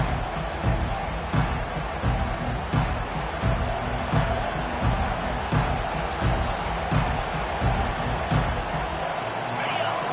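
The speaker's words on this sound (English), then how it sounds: "This crowd bringing an ear-splitting welcome to their visitors." Large football stadium crowd roaring steadily at kickoff between Missouri and visitors, a dense continuous wall of cheering with occasional sharp thuds, commentators' voices running beneath.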